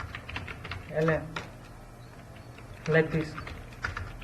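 Keys clatter softly and steadily on a computer keyboard while code is typed, the light clicks sitting low beneath two short bursts of someone talking nearby.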